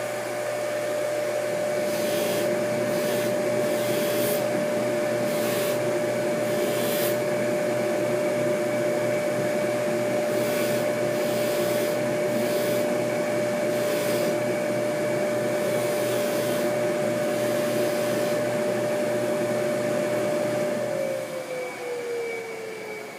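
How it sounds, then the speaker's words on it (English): A polishing machine fitted with a satin wheel refinishes the case of a watch, giving a loud, steady motor whine with a constant tone that runs unbroken for the whole stretch, then begins to wind down at the end. "So now I can hit all of this finish with the satin wheel without having to worry about the polished bezel"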